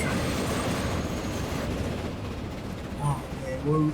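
A train running in the Transport Fever video game gives a steady, loud rumbling roar that eases slightly midway, with a few brief tonal beeps near the end and no talk.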